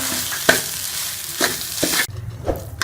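A bread burfi mixture with tomato is stirred and roasted in ghee, with a steady sizzle broken by several sharp scraping strokes of a spoon against the pan, close and fairly loud.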